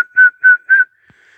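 A person whistles three short, clear, evenly spaced notes at one steady pitch, imitating animals that answered a turkey call, then falls silent.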